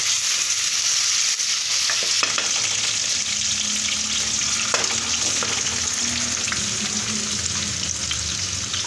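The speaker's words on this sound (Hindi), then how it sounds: "अब डाल दिया मैंने आलू।" Potatoes fry in a pot for aloo mutton curry, giving a loud, steady, close sizzle throughout with occasional stirring scrapes and no speech.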